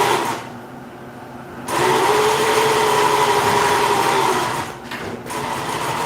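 A sewing machine runs steadily with a whirring mechanical drone, stopping briefly near the start and again near the end, loud and close with no speech.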